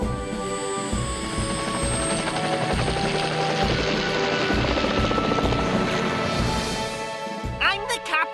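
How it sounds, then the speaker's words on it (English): A cartoon helicopter from Fireman Sam flies with a steady, rhythmic rotor chop and engine whine, loud and close, fading near the end as animated voices speak. "Might be an idea to get Tom Thomas out in his helicopter, sir."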